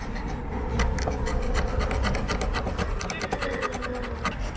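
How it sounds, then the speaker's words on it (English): Hand scraper working old oil off a boat's wooden toerail, a steady, continuous rasping scrape with rapid repeated strokes, close and moderately loud throughout. "Let's have a look at Nadiana's scraping technique"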